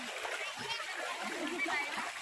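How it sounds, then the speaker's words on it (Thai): Strong floodwater rushes and splashes close by while children and an adult talk and call out over it. "โอ้จะพัดแล้วค่ะน้ำไหลแรงมากเลยค่ะ"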